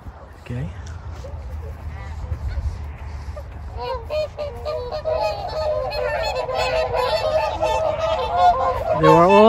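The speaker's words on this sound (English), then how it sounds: "So we are here feeding wild ducks. There's a lot of ducks, you know, wild ducks," Wild geese honk loudly and repeatedly while being fed alongside wild ducks, the calls growing more frequent and overlapping toward the end as people talk over them.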